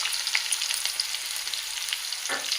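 Bottle gourd and okra frying in a pan with fenugreek powder for majjiga pulusu, a steady bright sizzle with light crackles and a soft stir near the end, close and alone.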